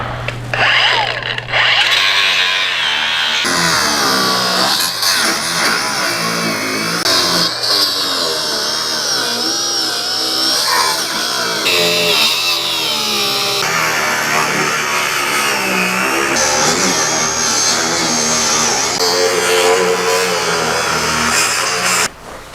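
An angle grinder cutting metal off track sled parts, a loud, continuous harsh whine with shifting pitch as the disc bites and eases, close by and running almost the whole time.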